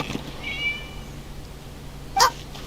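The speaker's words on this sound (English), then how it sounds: "It was just a cat." In Genshin Impact, a single short cat meow sounds near the end, brief and moderately loud over quiet ambient hum, with a faint tone earlier.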